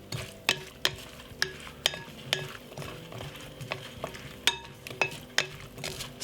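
Tomato salad dressed with olive oil is tossed in a bowl, steady spoon strikes and wet squelching repeating roughly twice a second, close and fairly quiet with no voices.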